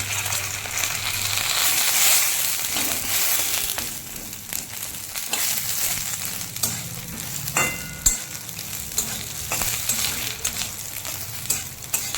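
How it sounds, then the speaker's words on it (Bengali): Whole cumin seeds, bay leaf and dried chilli hit hot oil in a home kitchen, a loud continuous hiss and crackle with a few scraping stirs and clinks, steady and close. "দিয়ে দিচ্ছি দেখো গোটা জিরে, দিয়ে দিলাম তেজপাতা, শুকনো লঙ্কা"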